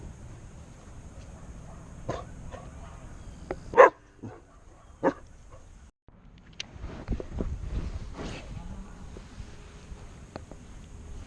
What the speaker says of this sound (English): My dog's having a standoff with his cow.